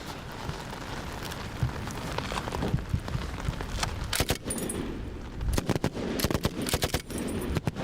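Gunfire from a soldier of the Danish light infantry on an outdoor shooting range, sharp cracks arriving in irregular bursts over steady wind and background noise, growing denser and louder toward the end.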